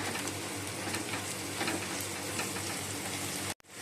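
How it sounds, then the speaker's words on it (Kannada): Fresh fenugreek leaves go into a hot turmeric-tinged tempering for fenugreek rice, giving a dense, steady hiss of sizzling oil that holds level throughout and then cuts off abruptly near the end. "ಮೆಂತ್ಯ ಸೊಪ್ಪು ಹಾಕ್ತಾ ಇದ್ದೀನಿ ಇವಾಗ"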